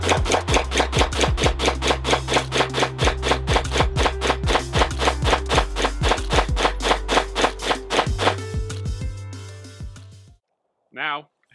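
Sixty rounds from a Magpul D-60 drum magazine fire in a fast, evenly spaced string of loud, close shots that ends in quiet, followed by a brief voice.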